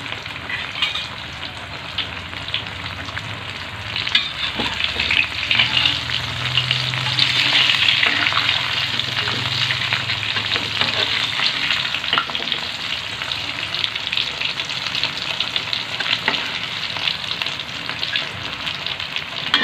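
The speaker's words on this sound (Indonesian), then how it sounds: "Lalu kita goreng sampai berubah warna kecoklatan." Tempe fries in hot oil until golden brown, a loud, steady crackling sizzle with bright popping bursts, stirred now and then, continuing unbroken with no voices.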